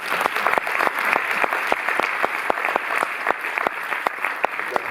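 Loud, sustained audience applause at a film presentation at the Cinémathèque in Paris, with crisp, evenly spaced claps running through a dense patter of hands for the screenwriters.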